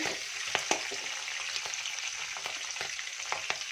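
Curry leaves and green chilies frying in hot oil for mango rice give a steady close sizzle, broken by small crackles and pops as a spoon stirs the pan.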